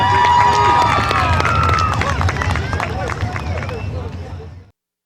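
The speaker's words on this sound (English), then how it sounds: "Big round of applause, Tim Rager" A speedway crowd cheers and claps at a night of racing, a dense roar of voices and whistles close by with applause mixed in, then it cuts off abruptly near the end.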